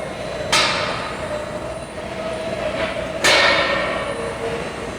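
Two sharp metallic clanks a few seconds apart as pins are pulled on an air-operated agitated tilting kettle, over a steady mechanical hum.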